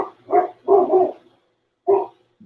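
A dog barks nearby in a short series of four sharp woofs, two in quick succession, a pause, then one more and a faint final yip.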